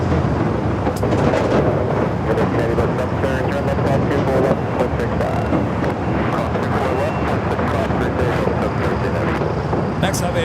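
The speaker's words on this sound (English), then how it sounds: "Virgin A350-1000 heading to the north side of the gates of Tom Bradley." A Virgin Atlantic Airbus A350-1000 jet taxis at LAX toward the north side of the Tom Bradley gates, giving a loud, steady, broadband engine roar with wind buffeting that stays constant throughout.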